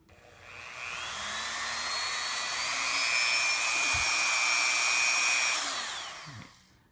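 A Dremel 3000 rotary tool whines at high speed while engraving glass, holding a steady pitch that rises slightly, then winds down after about six seconds. It sounds fairly close, with no talk.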